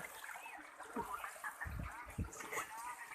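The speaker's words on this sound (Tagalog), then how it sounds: "Yan guys, nakikita nyo, malakas yung agos dito." Rushing, splashing water of a fast-flowing stream, with gurgles and surges, recorded up close at moderate volume.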